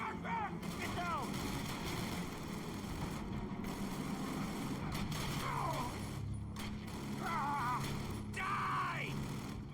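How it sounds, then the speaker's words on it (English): Machine gun fire in a Team Fortress 2 animated battle, steady rattling bursts amid explosions and shouting voices, loud and continuous. "Fire! Machine gun!"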